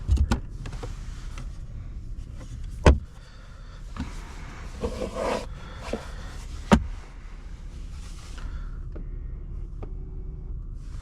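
Electric sunshade in a 2022 Genesis G90 gliding with a soft motor whir over the car's low cabin rumble, broken by a few sharp clicks and thumps, fairly quiet throughout.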